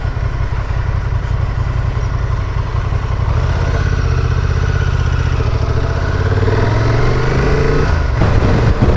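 A motorcycle rides along a road with loud, steady engine drone and tyre noise, and the pitch rises and shifts slightly as it goes.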